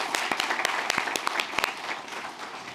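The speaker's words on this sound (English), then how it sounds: "Give her a big round of applause." Applause from an audience at a workforce development summit, a short burst of scattered sharp claps that thin out and fade toward the end.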